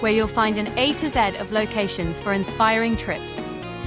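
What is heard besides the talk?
No everyday noises stand out.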